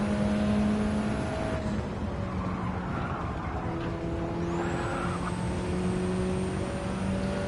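A racing car engine in the video game Gran Turismo 7 drones steadily while a turbo whine rises sharply midway and holds as a high whistle over the engine note.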